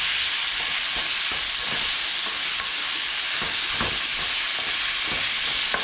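Green beans stir-fry in a pan with oyster sauce, soy sauce and ground pepper, a loud continuous sizzle with rhythmic scraping stirs of a utensil repeating every second or so.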